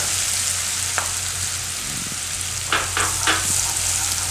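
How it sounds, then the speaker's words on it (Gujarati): Garlic and chillies frying in a pan over a gas flame for a curd papdi gathiya curry, a steady hiss with a few brief stirring clatters, no talking. "હવે આપણે એમાં આ લસણ ને મરચા નાખશું."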